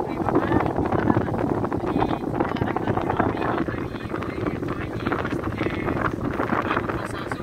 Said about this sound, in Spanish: Aquí estoy manejando la lancha